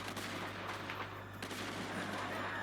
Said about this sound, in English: Oh nice, I got him with a fucking explosion.